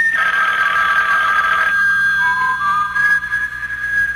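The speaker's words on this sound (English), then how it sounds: "Your phone, Harry." A telephone bell rings loudly and continuously in a radio mystery drama, a bright trilling ring that steps down to a thinner tone partway through, with no one speaking over it.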